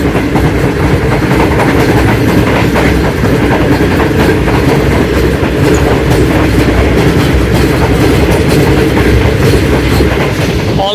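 Karachi Express passenger train running between Multan and Lahore, heard from inside an economy-class carriage: a loud, steady rumble with continuous clickety-clack of wheels over rail joints throughout.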